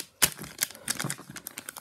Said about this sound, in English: Because I'm using nail clippers.